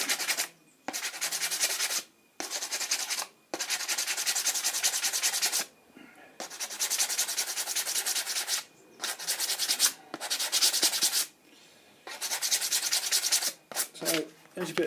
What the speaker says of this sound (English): Put a bit of super glue on, a bit of sandpaper while it's wet.